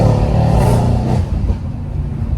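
Mercedes C63 with a Stage 2 tune, engine and exhaust revving loud and close in cold weather, a deep rumbling roar that swells and then eases back slightly, with no talk.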